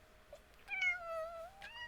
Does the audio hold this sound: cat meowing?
yes